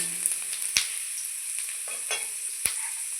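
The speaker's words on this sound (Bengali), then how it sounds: "আলু পেঁয়াজ লঙ্কা সবগুলো একসঙ্গে ভালো করে ভেজে নিয়েছি" Potato, onion and green chilli fry together in a pan with a steady, close sizzle, punctuated by several sharp clicks and scrapes of a spatula against the metal, no voices present.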